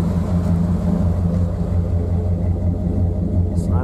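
A 2000 Dodge Ram 1500 2wd pickup with a 5.9 V8 Magnum engine and Flowmaster muffler rumbles steadily through its exhaust, a deep, mellow, continuous low drone heard up close.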